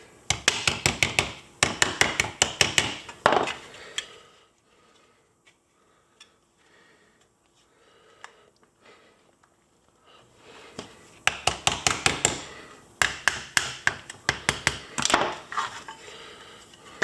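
Dead-soft annealed brass shaped into a sword scabbard with a hammer, rapid bursts of sharp metallic blows in two clusters, separated by a quiet pause with a few isolated taps.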